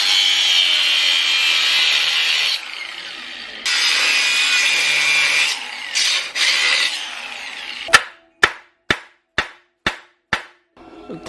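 A saw cuts a section out of a brake bracket on a lifted RD1 Honda CR-V, a loud rasping grind in bursts with pauses, followed by six sharp evenly spaced metallic strikes.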